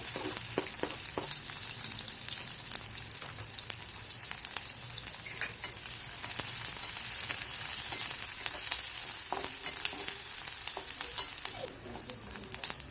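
Chopped onion fries in hot oil with mustard seeds and cumin, giving a dense, continuous sizzle with scattered crackles and pops. It eases slightly near the end, and nobody speaks.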